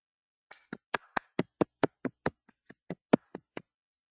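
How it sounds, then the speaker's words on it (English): A golf clap in a trading room: about fourteen crisp, evenly spaced hand claps in a slow, steady rhythm, close and fairly loud, with no talking. "How about a golf clap?"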